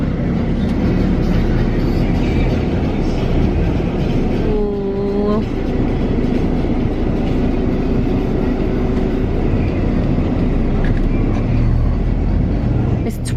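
Interior of a bus driving along a road from Kos Town toward Zia, with a steady low engine and road rumble throughout, a brief tonal whine midway, and rattles and clicks of the cabin.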